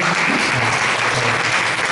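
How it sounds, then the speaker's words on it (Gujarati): Applause at a fiftieth wedding anniversary celebration, a dense burst of clapping from a crowd in a hall, loud and continuous throughout. "એમને તાળીઓથી વધાવીએ"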